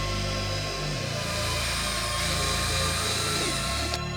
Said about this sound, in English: we clean them with a drill and a detailing brush